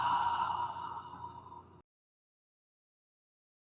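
A long, breathy exhale through the mouth in ujjayi style during yoga, fairly close and fading gradually over under two seconds, followed by silence and the start of another breath.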